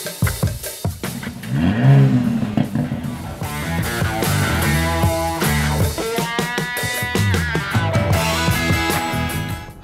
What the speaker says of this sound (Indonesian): Sekarang kita benar-benar akan ngetes Porsche Panamera 4 e-Hybrid.